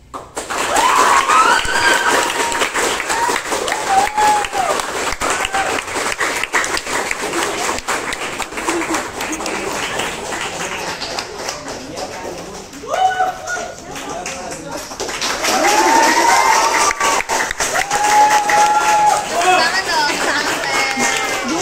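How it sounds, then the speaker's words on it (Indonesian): Crowd applause with clapping and chatter at a Paskibra handover gathering, loud and sustained for about twenty seconds, with voices and shouts mixed in. "Tepuk tangan dong."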